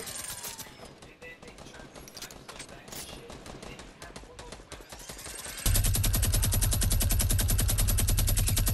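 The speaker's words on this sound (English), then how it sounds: "there's other people sniping on the right" Rapid automatic gunfire in the Fortnite video game, an aggressive squad match, crackling under players' voices at first, then a loud, dense, sustained burst of shots for the last few seconds.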